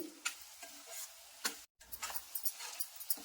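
Steady sizzling of prawns frying in a pan, with repeated scraping stir strokes and one brief cut to silence midway.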